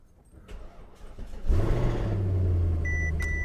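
A Mercedes S63 AMG engine cranks and catches, swelling into a loud, deep idle roar that settles into a steady rumble up close, with faint electronic chimes near the end.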